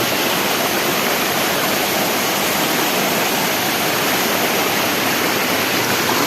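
A waterfall, a curug, pours in a loud, unbroken rush of flowing water that stays constant and dense from start to finish with no other sounds.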